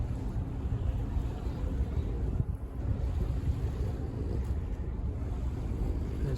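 Aboard the Spirit of Tasmania ferry as it sets sail, a steady low engine rumble and rushing wind fill the deck, continuous and moderately loud with no clear voices.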